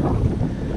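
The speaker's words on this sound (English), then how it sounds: "That wind is making it very difficult so far." Heavy wind during a hurricane, while bass fishing, buffets the microphone in a loud, continuous low rumble, with no other sounds coming through.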